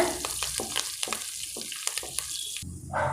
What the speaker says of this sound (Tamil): நாம் பெருங்காயத்தூள் சேர்த்தலாங்க கருவேப்பிலையும் சேர்த்தலாம் எல்லாத்தையும் நல்லா வறுத்துக்கோங்க